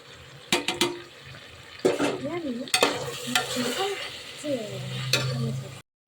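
A spoon scrapes and clacks against a pan while chili powder, garam masala and turmeric sizzle and fry underneath for chicken biryani, with a few louder knocks; a voice murmurs briefly in the background.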